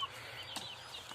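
Desi hen and rooster in a backyard, with soft clucking and brief faint calls over a quiet background.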